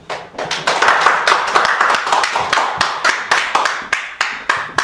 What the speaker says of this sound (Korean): 이 시간 나오실 때 뜨거운 박수로 환영해 주시면 감사하겠습니다